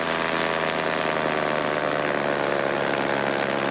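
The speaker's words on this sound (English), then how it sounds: "Paramotor, or PPG, is one of the safest forms of aviation." A paramotor engine runs in flight, a loud, steady, buzzing drone with a constant pitch and no pauses across the whole stretch.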